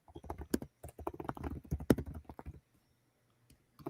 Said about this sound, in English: the aggressive typing